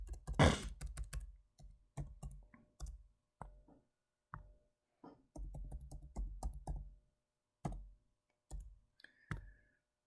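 Someone types a formula on a computer keyboard in short, irregular clusters of close, crisp key clicks, broken by brief pauses, in a quiet room.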